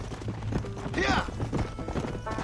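Hooves of a herd of cattle clatter in a rhythmic clip-clop through a river crossing in Red Dead Redemption, mixed with animal calls and a game-score texture, heard without talk.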